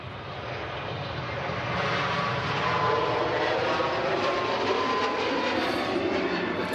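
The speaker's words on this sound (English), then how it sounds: "And off goes the Air Transat A321neo on the way out to Toronto." An Air Transat A321neo jet taking off from Manchester Airport for Toronto, its engines a powerful, continuous roar that builds over the first couple of seconds and then holds strong and steady.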